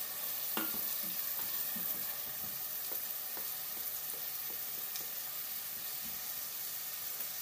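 Tomato fries in a hot pan for Spanish lentils, giving a steady close sizzle and hiss with a few sharp clicks and stirring scrapes, and no voices.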